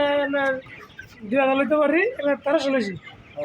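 Broiler chickens in a shed cluck and call in a repeated, warbling chorus, fairly close and filling the space with no pause.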